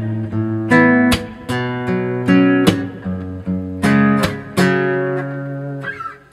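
Acoustic guitar played with a slap flick technique, percussive slaps on the strings followed by ringing chords, several sustained strums with sharp attacks, close and fairly loud, no voices.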